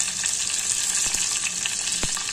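Red chillies roasting in hot oil with cumin, mustard seeds and curry leaves as a tempering for idli chutney: a loud, constant high sizzle and crackle with a few sharp pops and spoon knocks, and no talking.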